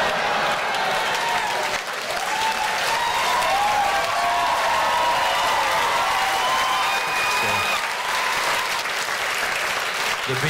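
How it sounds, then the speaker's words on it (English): Loud, sustained applause from a stand-up comedy audience, dense clapping with faint cheering filling the room evenly for about ten seconds, with no talking over it. "The BNP get a round of applause."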